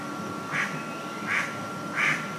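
A duck quacks three times at a slow, even pace, fairly close, at Disney's Jungle Cruise, over a steady hum of background noise, with no talking.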